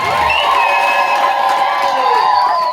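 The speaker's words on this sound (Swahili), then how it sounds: "Pigia Yesu makofi" A church congregation cheers for Jesus. Many voices whoop and call out together in a loud, continuous crowd roar, with clapping blended underneath.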